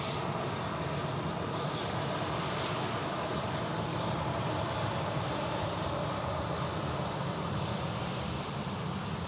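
A jet airliner departing Dallas Love Field roars steadily at a distance, a broad, continuous engine rumble and whoosh with no talk over it.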